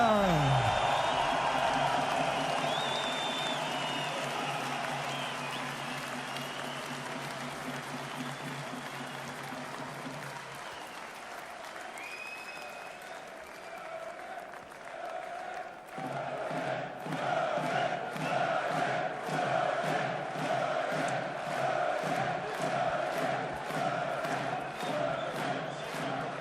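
A large arena crowd roars and cheers as the reigning WBA light heavyweight champion from Germany is introduced before a boxing bout, a sustained loud wash of voices that swells with rhythmic chanting toward the end.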